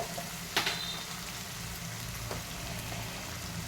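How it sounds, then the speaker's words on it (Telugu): Brinjal and tomato curry fries in hot oil while it is stirred, giving a steady soft sizzle with a couple of sharp clinks from the spoon against the pan early on. "ఇంకా కలుపుతూ వేయించుకోవాలి"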